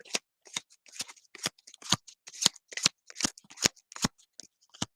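Pokemon trading cards are shuffled by hand, a run of quick crisp riffling bursts in an uneven rhythm, close and clear against silence, with no talk.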